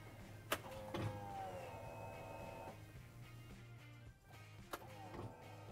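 A Polaris RZR fuel pump primes after the key is switched to run: a faint steady electric whine with a low hum, plus a few soft clicks near the start and end, heard close and alone.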